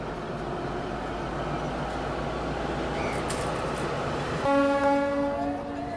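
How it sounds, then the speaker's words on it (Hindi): A DEMU train arrives at a busy railway station, its rumble rolling steadily before a loud, sustained multi-tone horn blares near the end, with no one speaking. "यहाँ पे किसी डेमो ट्रेन का अराइवल हो रहा है"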